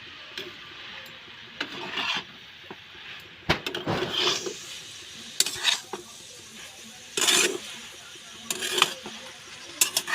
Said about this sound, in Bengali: তো এটা ভালো করে আমি নেড়ে নেব।